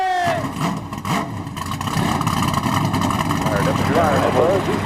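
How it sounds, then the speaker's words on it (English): Race car engines fire up trackside at Iowa after the start command. One engine cranks and catches, then a dense, rumbling idle of several cars builds and holds, loud and close, with a voice over the start. "Drivers, start your engine!"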